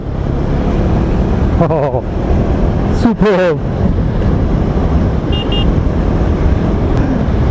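A 2019 KTM Duke 390 ABS motorcycle rides at speed, a steady loud roar mixed with heavy wind buffeting on the microphone, with engine pitch sweeps rising near the start and middle; a rider speaks briefly over it.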